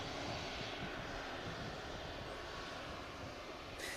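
A Corendon airliner holds on the south side at Manchester Airport awaiting departure, its engines giving a steady, broad, far-off roar that stays even throughout with no voices.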